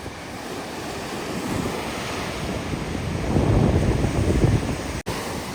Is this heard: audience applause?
no